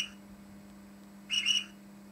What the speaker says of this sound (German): F4 haben wir hier den Schaffnerpfiff.